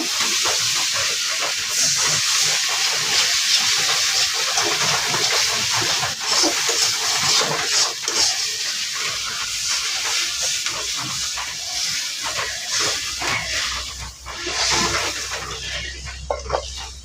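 Water poured into a hot pan of spice paste while cooking fish, giving a loud, steady steamy hiss that carries on for the whole stretch.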